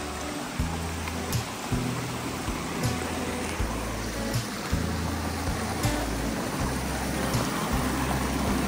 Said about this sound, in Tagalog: Lakas po ng tubig, oh. Ang lamig pati nito kasi galing bundok